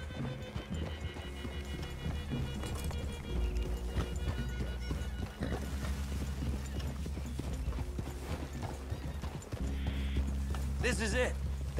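Horses' hooves clip-clop steadily at a walking pace in Red Dead Redemption 2, with a whinny and some low background music and ambience in a game scene.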